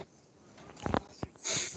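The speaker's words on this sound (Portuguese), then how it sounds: "Que tosse danada." A person coughs a few times in a remote maths class, with sharp bursts close to the microphone and a breathy rasp at the end.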